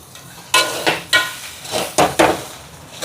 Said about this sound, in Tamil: என்ன குழம்பு கணக்காக விட்டுட்டு இப்படி கலந்து விடணும்